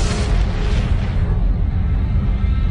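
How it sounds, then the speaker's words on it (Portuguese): A deep, rumbling explosion of a giant star going supernova booms and rolls on, a dense wall of low roar that slowly fades over a few seconds. "uma imensa estrela explode"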